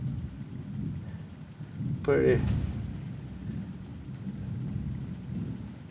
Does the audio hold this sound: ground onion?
no